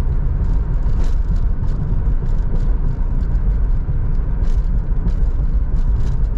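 A 1982 Mercury Cougar XR7 drives down a road, its steady low engine rumble and road noise continuous and close, with faint intermittent ticks and rattles above.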